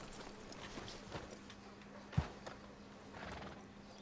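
Horse hooves clip-clopping in the video game Red Dead Redemption 2, faint and steady under a low ambient hum, with one sharper thump partway through.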